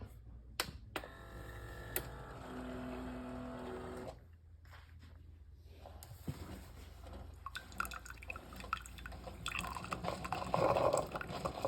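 A Keurig K-Cafe coffee maker brews a 10-ounce cup, with clicks and pump noise followed by liquid dripping and pouring into the cup, close and fairly quiet, intermittent with brief pauses.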